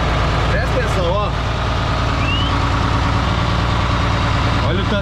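A 1987 John Deere 3140 tractor runs close by during a tight turn, its engine a steady, loud low rumble throughout, with someone talking over it and brief squeaky sounds at moments.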